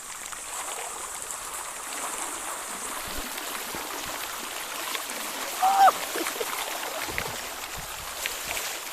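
Steady rushing water runs continuously off a field in the open, a broad hissing flow with a brief voice briefly audible partway through.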